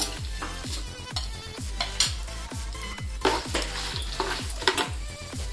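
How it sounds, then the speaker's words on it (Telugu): Chana dal, urad dal and mustard seeds fry in hot oil with a bright crackling sizzle, while a spoon stirs them in a pan in repeated rhythmic scrapes and knocks, close and loud. "పచ్చిశనగపప్పు, మినప్పప్పు ఫ్రై అయిన తర్వాత ఆవాలు 3 స్పూన్స్ ఆవాలు"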